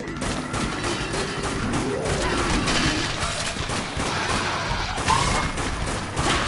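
Rifle fire in the Dead Nation Apocalypse video game on PS4: loud, repeated shots mixed with crashes and impacts in a busy, continuous game soundscape.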